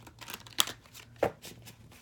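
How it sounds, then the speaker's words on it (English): A deck of tarot cards shuffled by hand indoors, a few quick riffling and flicking bursts with two sharper snaps, close and fairly quiet with no talk. "So I'm going to shuffle these cards real quick."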